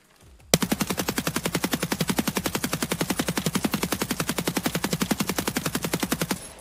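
A 5.56 MDR rifle in Escape from Tarkov fires one long unbroken full-auto burst, sharp evenly spaced loud shots in a fast steady rhythm lasting several seconds.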